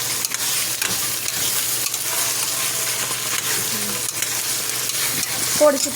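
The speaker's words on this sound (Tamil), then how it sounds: "நல்லா அப்படி மிக்ஸ் பண்ணி விடணும்" A vegetable biryani mixture is stirred in a pan, giving a loud, steady sizzle with continuous scraping and mixing, while a voice speaks briefly.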